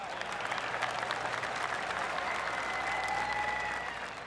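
Golf gallery applause from the PGA TOUR 2K25 video game, a steady, dense wash of clapping from a sizeable crowd that holds at an even level for about four seconds before easing off slightly at the end.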